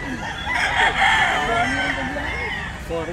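A rooster crows at a busy gamefarm sale, a loud drawn-out call with clucking fowl around it and a crowd murmuring in the background.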